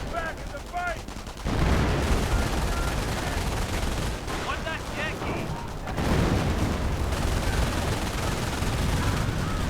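Rapid bursts of machine gun fire from a video game battle, sharp rattling volleys with a brief gap before firing resumes loud and sustained alongside other combat noise.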